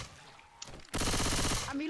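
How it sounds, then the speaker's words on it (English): Loud, sustained machine gun fire from Left 4 Dead 2 kicks in abruptly and runs as a fast, steady stream of shots after a brief quieter lead-in with faint voices. "I'll take this machine gun now."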